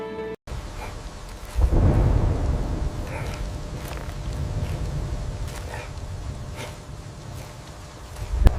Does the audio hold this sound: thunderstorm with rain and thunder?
yes